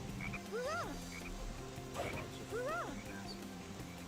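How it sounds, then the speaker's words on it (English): Two deep, twangy frog croaks from the video game Sonic Heroes, about two seconds apart over a steady background hum, each a quick rising-and-falling gulp. "every single frog in this game looks like Froggy"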